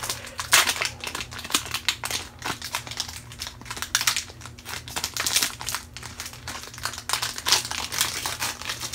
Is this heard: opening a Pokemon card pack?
yes